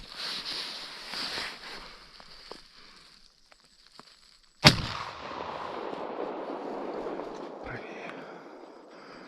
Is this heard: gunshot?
yes